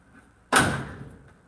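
A car door, adjusted to clear the bodywork, shuts with one sharp thud that rings briefly and fades. It is close and loud against quiet background, with no talking.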